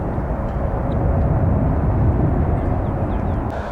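An airliner takes off at San Francisco International Airport, its jet roar a broad, steady rush at moderate distance that holds for a few seconds.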